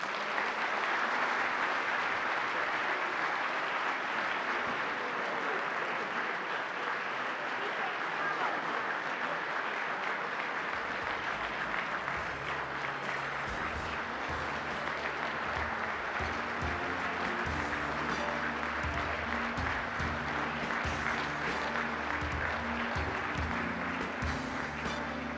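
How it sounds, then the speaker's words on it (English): Luncheon audience applauding the outgoing president, a steady broad wash of clapping lasting throughout, moderately distant, with a low background hum joining partway through. "I would like everybody to give a round of applause to the outgoing president, Mr. Kevin Trainer."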